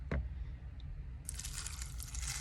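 Liquid pours into a cup to submerge tray charms. A soft click comes first, then a steady hissing pour that starts abruptly and continues close by.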